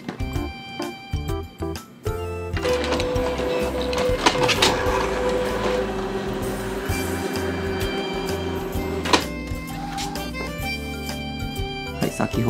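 A printer runs a blank page through to clean its rollers after a paper-feed error. It gives a steady, close mechanical whirring and grinding with intermittent clicks and feed noises for several seconds.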